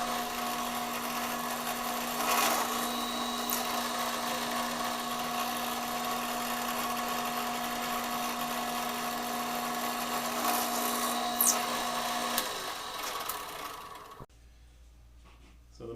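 A power drill bores quarter-inch pilot holes into a redwood block, a steady close whine running for about fourteen seconds before cutting off abruptly.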